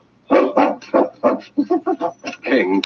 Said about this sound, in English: King clawed at the door and barked a protest at being left behind.